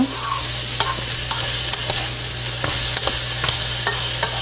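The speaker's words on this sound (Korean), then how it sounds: "한 2, 3분 정도만 이렇게 볶아주면 돼요" Vegetables and soaked shiitake mushrooms for japchae being stir-fried in a pan, a steady soft sizzle under repeated scraping taps of a utensil, close and alone with no talk.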